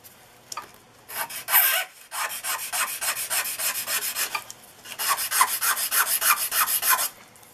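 The rough side of a file rasps across the face of a foam popper fly to flatten it, giving close, loud bursts of rhythmic back-and-forth strokes with short pauses between.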